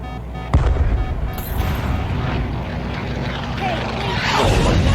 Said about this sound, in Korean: 비행기가 심하게 흔들리는데? 아 내가 비행기 타고 있다가 지금 추락하는 거구나